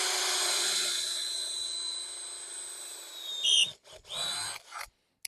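A power drill boring holes in soft aluminium: a steady high whine that runs close and continuous, then breaks into short bursts as the bit bites and stops near the end.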